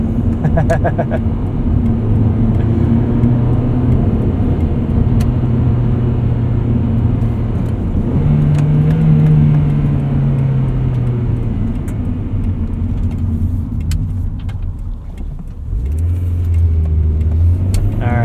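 A 1999 Honda Prelude Type SH with a five-speed manual climbs a hill, its engine a loud, steady drone heard from inside the cabin, pitch rising then dipping around a gear shift before pulling again.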